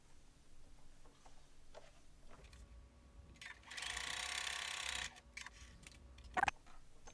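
A sewing machine stitches across a quilt-as-you-go log cabin square in one steady burst of about three seconds, fairly faint, between quieter handling noises and a small click at the end.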